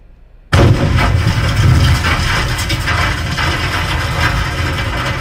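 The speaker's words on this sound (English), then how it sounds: "the debris clouds may be a little bit loud compared to the explosion" A spacecraft explosion bursts in abruptly after a moment of near silence, then rolls on as a loud, dense rumble of spreading debris clouds, crackling and roaring steadily with no voices.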